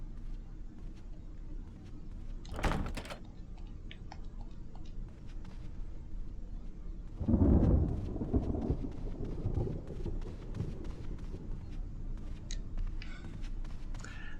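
Thunder and rain in the Resident Evil video game: a steady hiss of rainfall with a sharp crack near the start and a deep rolling thunder rumble about halfway through.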